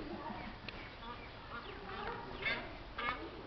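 Geese honk a few times at mid distance at Healesville Sanctuary, the calls rising over a steady outdoor background with some voice nearby.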